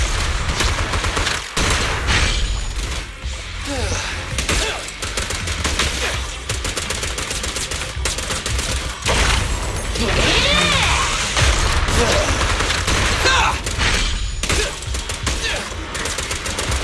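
Rapid gunfire bursts from the action video game Zenless Zone Zero, loud and sustained with mechanical clatter, mixed with game music and effects throughout.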